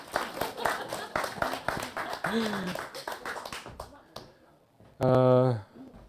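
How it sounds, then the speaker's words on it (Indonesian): Congregation clapping during a church service, scattered sharp claps mixed with voices and room noise, fading toward the end before a short sung or spoken tone. "Berikan tepuk tangan"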